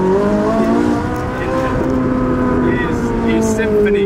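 A naturally aspirated supercar engine roars loudly and steadily up close, its harmonic tone rising and falling as it revs, with voices talking over it throughout.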